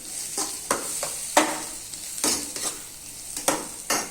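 A Chinese-style dish with chili and chili flakes being stirred in a hot pan: quick, irregular scraping strokes of a spatula over a low sizzle, close by and without talk.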